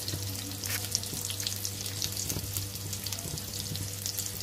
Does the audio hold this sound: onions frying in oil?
yes